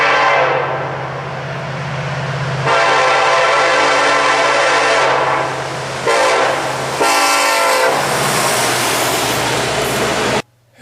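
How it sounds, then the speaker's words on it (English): A long coal train rumbles past close by, wheels clattering steadily, with a deep horn droning at the start and loud rail noise building. "It's another coal train."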